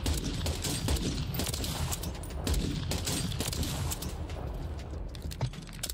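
Rapid, dense gunfire from a gun in a first-person shooter video game, continuous sharp bursts running throughout, loud and close with no speech.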